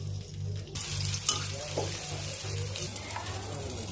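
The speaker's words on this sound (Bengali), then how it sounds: "তারপরে একটি কড়াইতে তেল গরম করে আমি পেঁয়াজ বেরেস্তা করে নেব।" Onions frying in hot oil in a wok give a steady crackling sizzle with a low mechanical hum underneath and a few soft stirring knocks, close by and moderate in level.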